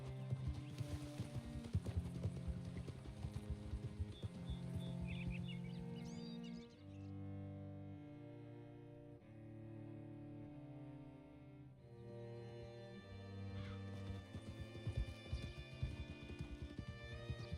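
Horse hooves clip-clop steadily while riding in Red Dead Redemption 2, a soft rhythmic trot heard under a musical score, with no talking.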